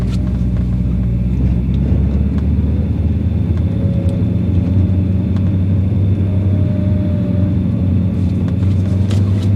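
An LS V8 engine in a Porsche 944 rumbles steadily and loudly as the car turns in circles, a deep continuous drone with slight rises, the vehicle moving without pause.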